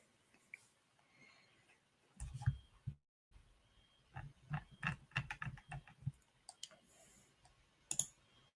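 Typing on a computer keyboard during a live forex trading session: irregular bursts of quick, close clicks and taps with short pauses, fairly quiet, with no talking.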